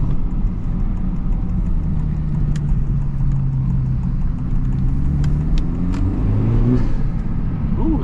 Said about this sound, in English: I'm really happy with the resonator delete too. It gives the car just enough noise.